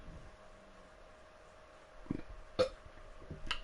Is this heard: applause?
no